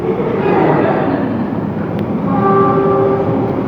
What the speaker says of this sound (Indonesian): Tuh, kereta api panjang banget ya.